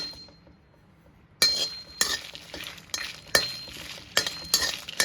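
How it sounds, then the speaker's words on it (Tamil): Spices for Chettinad chicken masala are dry-roasted in a pan, giving a quiet start followed by a series of sharp, irregular clinks and scrapes of a spoon stirring against the metal pan. "இதையும் நல்லா வறுத்துக்கணும்."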